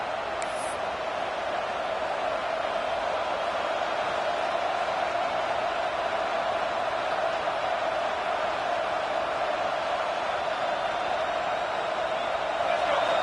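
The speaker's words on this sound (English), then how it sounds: "Decibels rising as the crowd gets behind this defense on third down." Stadium crowd at a football game during a third-down play, a dense, steady roar of many voices holding loud and constant throughout with no distinct breaks.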